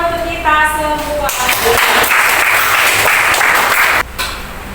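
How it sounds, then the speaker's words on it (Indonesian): Audience applause at a teacher-training performance assessment, which breaks out after a short sung or spoken phrase and carries on as dense clapping for a few seconds before cutting off. "Kasih tepuk tangan untuk kita semua."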